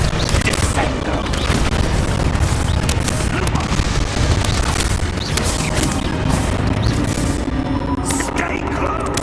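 Descendo spell cast during Hogwarts Legacy gameplay on Xbox One, a dense, loud barrage of booming, crashing impacts that runs continuously with heavy low rumble and no pauses.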